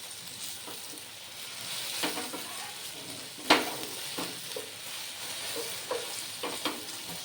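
Soft sizzle of chira stir-frying with carrot, capsicum and coriander in a pan, with intermittent scraping clicks of a spatula stirring; quiet and close, no talk.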